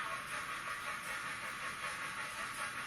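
A steam locomotive hisses steadily, a continuous faint broadband rush of escaping steam with no voices over it.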